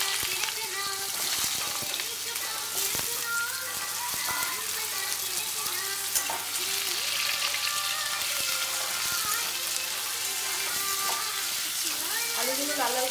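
Potatoes fry in oil with dried chilli and bay leaf, a loud continuous sizzle with stirring scrapes and clinks throughout, and no one speaks.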